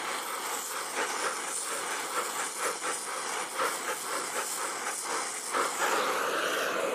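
A cutting torch roars with a steady close hiss while it preheats thick steel, a continuous broadband rush with slight flickers and no speech.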